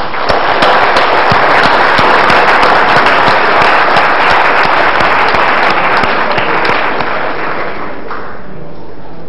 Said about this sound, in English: to give a warm applause to our panel.